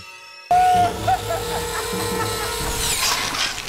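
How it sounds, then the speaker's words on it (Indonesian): An electric saw runs in a torture scene from the horror film Hostel Part II, starting abruptly as a loud, steady mechanical whine and drone that holds continuously with some fluctuation. "Todd sedang menyiksa Whitney dengan gergaji listrik"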